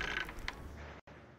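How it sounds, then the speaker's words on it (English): A door creaking open in the video game The Testament of Sherlock Holmes, a short mechanical creak with a brief squeak, followed by a sudden cut. "And yes, the dog opens doors and does a lot of other magic things."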